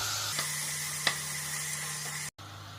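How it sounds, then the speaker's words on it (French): Ground meat frying with onions in a pan gives a steady, even sizzle that runs alone the whole time, broken only by a few soft stirring clicks and one brief dropout near the end. "On va bien faire venir la viande hachée avec les oignons."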